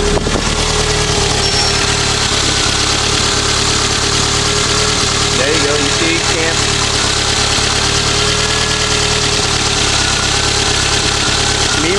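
Car engine idling steadily with a slight misfire, a continuous low rumble throughout with a faint irregular stumble, while someone talks briefly over it.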